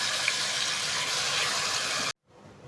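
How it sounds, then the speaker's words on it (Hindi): Water pours into a cooking pan of sliced tomatoes as a steady bright splashing hiss for about two seconds, then cuts off abruptly to near silence before a faint sizzle returns. "टमाटर को सॉफ्ट करने के लिए मैंने बिल्कुल थोड़ा सा पानी डाला है इसमें"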